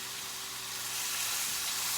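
Pork sears in a hot pan, giving a steady, bright sizzle that swells slightly as the meat is flipped, close and continuous with no talking.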